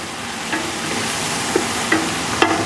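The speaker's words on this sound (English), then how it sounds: "So fry these off a bit." Ingredients for a Napoletana tomato sauce frying off in a pan, a steady low sizzle with a few soft utensil scrapes and taps.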